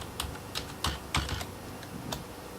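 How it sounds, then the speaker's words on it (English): Password being typed on a computer keyboard: several separate key clicks spread unevenly over a couple of seconds, close and fairly quiet, with no voices. "then I type in my password"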